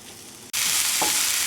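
Diced vegetables for Irish stew hit a hot pot and break into a sudden loud, steady sizzle that stays bright and continuous after a quiet start.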